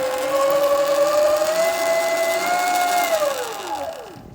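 A Sur-Ron electric dirt bike with a noise fix revs up with a rising motor whine, holds it steady, then winds down as the pitch falls away to quiet, close and alone.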